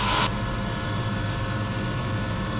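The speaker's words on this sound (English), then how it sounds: "RPM is good, idle's good, oil pressure's good, blades are turning" Helicopter on the ground with its engine running and blades turning, a loud steady roaring whine throughout.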